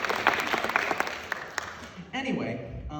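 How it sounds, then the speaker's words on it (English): A small audience applauds a teacher at a student showcase, with quick bright claps for about two seconds before it gives way to a nearby voice talking. "Can we get a little round of applause for Blyer?"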